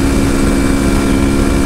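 Honda Tornado motorcycle engine idling at a steady, constant hum, loud and close with a low droning tone throughout; no distinct truck pass-by stands out from the engine.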